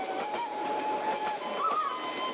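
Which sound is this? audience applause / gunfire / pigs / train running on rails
train running on rails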